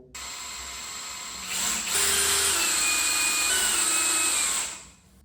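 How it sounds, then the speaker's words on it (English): A power drill with a small bit bores a hole into the steel shank of a bolt, whining steadily at close range and rising in pitch and loudness as the bit bites into the metal, then stopping abruptly. "to change our bit to the smaller bit to drill the hole into the shank of the bolt"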